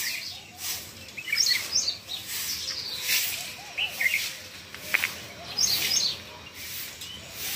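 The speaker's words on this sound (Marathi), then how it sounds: "कोकिळीची मस्त कू चालू आहे." An Asian koel calls repeatedly outdoors near a home in the morning, its rising whistled notes clear but moderately distant, sounding in short bursts among other chirping birds and faint household background noise.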